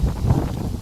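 Strong wind buffets the microphone outdoors on a street of old shops in Kyoto, a continuous low rumbling roar without pause.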